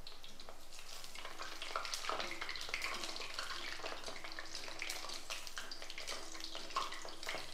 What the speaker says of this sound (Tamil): அதனால் நம்ம மீடியமில் வச்சுட்டு பொரித்து எடுத்துடலாம்